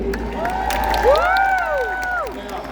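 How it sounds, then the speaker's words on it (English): An arena crowd at a jousting show cheers for the ring crew, with whoops and excited shouts swelling over light clapping, peaking midway before tapering off. "A nice round of applause for all the ring crew here at the P&E."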